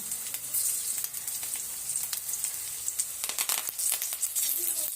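Tomato chutney ingredients roast in a hot pan, giving a continuous close crackling sizzle with bursts of sharper popping near the end.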